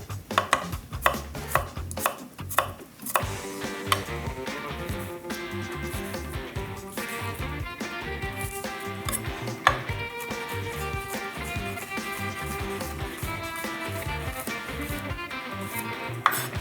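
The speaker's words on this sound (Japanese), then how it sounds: "さあ生姜はみじん切りに、それからニンニクも同じように。" Ginger and garlic minced with a kitchen knife on a cutting board, a fast, steady run of close, crisp chopping taps, briefly uneven at the start and then continuous throughout, with no talking.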